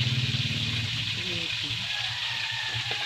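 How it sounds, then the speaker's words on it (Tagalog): Food frying in a pan gives a steady, dense sizzle throughout. A voice speaks faintly underneath. "Matapos na ako mag-prito."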